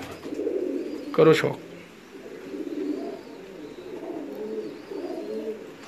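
Pigeons coo in a large loft, a series of soft, throaty rolling calls close by, interrupted early by a brief burst of a voice speaking.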